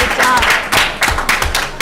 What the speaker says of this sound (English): Let's give a round of applause to Ms. Peck